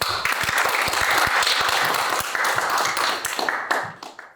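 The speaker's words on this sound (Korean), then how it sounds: "큰 박수로 환영해 주시기 바랍니다" An audience at a forum welcomes a university professor with applause, lively close clapping with distinct sharp claps that holds for a few seconds and then thins out and fades.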